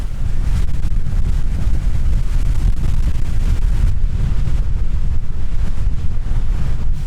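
Strong wind buffeting the microphone on an exposed mountain edge during freezing wind and rain, a loud continuous low roar with gusting surges and no speech.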